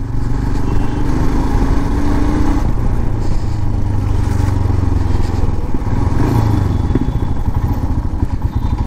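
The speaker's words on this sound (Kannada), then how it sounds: "ಅದೇ ನೋಡ್ರಿ ಹೆಂಗೆ ಜಗ್ಗುತ್ತೆ ನೋಡು ಗಾಡಿ, ಟಾರ್ಕು ಚಲೋ ಐತಲ್ಲ ಗಾಡಿದು" A Royal Enfield Himalayan motorcycle being ridden gives off a loud, steady engine drone with thumping, clattering undertones as it pulls, heard up close and alone without talk.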